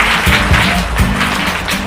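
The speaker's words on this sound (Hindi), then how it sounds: "जोरदार तालियां हो जाएंगी।" Loud, sustained clapping from a quiz show audience, a dense, steady wash of hands filling the whole stretch with no pauses, over a faint low rumble and no clear speech.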